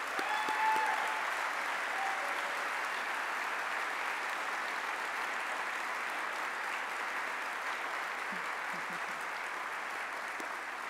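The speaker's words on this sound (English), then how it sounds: "that deserves a huge round of applause." An audience applauds at a Pride award ceremony in Columbus, a long, even roar of clapping that stays steady and slowly eases off.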